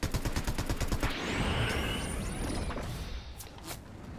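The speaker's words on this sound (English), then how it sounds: "Gunshots right here." Rapid gunfire in the video game Fortnite, a quick burst of evenly spaced shots followed by whooshing and rumbling game noise, fairly close and loud.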